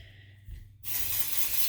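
Deja Vu dry shampoo sprayed from an aerosol can from a distance, a brief rattle followed by a steady bright hiss that holds at close range.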